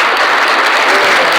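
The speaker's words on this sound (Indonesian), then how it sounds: "Tepuk tangan." Applause from an audience at a school multimedia club talk show, a dense burst of clapping that fills the whole short moment, loud and close with no talk over it.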